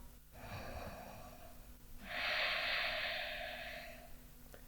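A slow, soft breath held in a seated Ashtanga yoga posture, a faint airy inhale swelling into a steady exhale lasting a couple of seconds, close and quiet with no talking.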